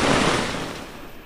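A strong gust of typhoon Opong wind blasting as a loud, broad rush that peaks at the start and fades over about a second, close to the microphone.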